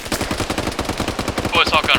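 Rapid bursts of video game gunfire crackle loudly and nearly continuously, with a bright burst of shots near the end and faint voices underneath.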